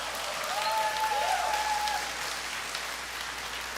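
A church congregation at a Sunday service claps in a sustained wash of applause that holds steady, then tapers slightly, with a faint tonal sound briefly above it.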